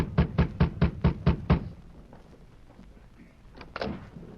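A sheriff knocks on the wooden door of a small cottage at a mine, seven quick, even raps close by. Then quiet follows, broken by a couple of faint bumps.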